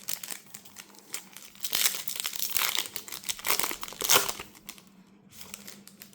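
A Panini Absolute football trading card pack is torn open nearby, with steady crinkling and tearing of the foil wrapper in irregular bursts that swell and fade, and no talk.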